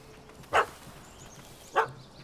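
Two separate dog barks, medium-distant with a clear gap between them, from a dog chasing a cat up a tree in The Witcher 3 video game.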